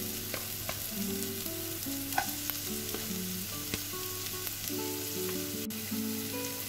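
Ginger, garlic, shallots and chillies sautéing in a pan for curry dosa, a soft steady sizzle with occasional stirring scrapes, faint and without speech.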